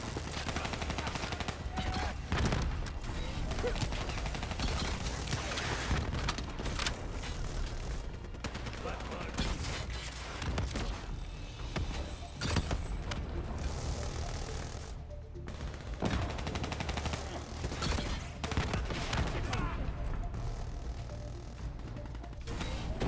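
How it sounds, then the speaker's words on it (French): Dense video game gunfire rattles almost without pause, bursts of automatic fire and single shots piling over one another, with voices talking underneath the loud, cluttered battle. "On nous tire dessus!"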